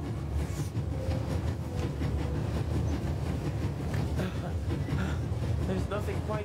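A train travelling in the video game The Raven: a continuous low rumble with rhythmic clicking of the carriage, steady and moderately loud, with occasional faint movement sounds over it.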